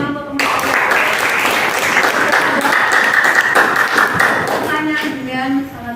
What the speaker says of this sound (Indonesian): yang tepuk tangan untuk teman-teman